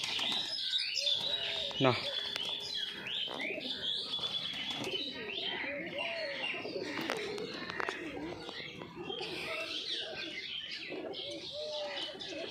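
A pair of egg-laying kagzi pigeons coo and chirp through a long, busy stretch, calls overlapping at close range while a person talks now and then.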